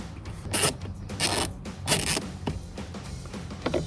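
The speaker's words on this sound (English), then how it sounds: "with your 7mm ratchet, take your two little bolts and reinstall them here and here" A 7mm ratchet tightens small bolts into plastic on a Silverado 1500 towing mirror, with a series of close, scratchy clicking and ratcheting bursts in an uneven rhythm.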